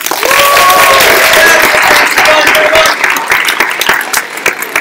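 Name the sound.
audience applause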